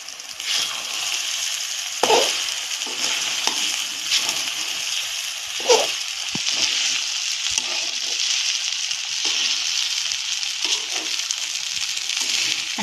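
Sabudana khichdi with crushed peanut powder being stirred in a pan, a steady soft sizzle and frying hiss throughout with occasional scraping knocks of the spoon against the pan, no talking.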